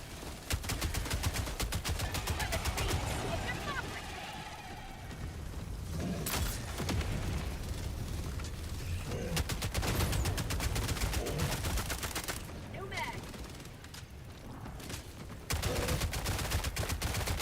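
Rapid gunfire in a survival video game, shooting at a small hole. Loud, dense bursts run almost continuously, broken by brief gaps.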